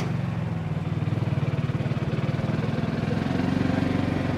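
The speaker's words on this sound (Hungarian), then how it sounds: "Az Istennek nem akar beindulni." An old Porsche engine at a luxury car venue sputters in a fast, even chugging rhythm, close and fairly loud, without catching cleanly over several seconds.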